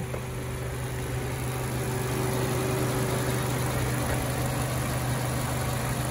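A 2018 Mazda3 Touring idles smoothly and steadily, a close, even engine hum with a low tonal drone holding constant throughout and no talking.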